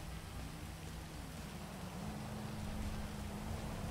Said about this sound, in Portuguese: Tá chovendo no jogo.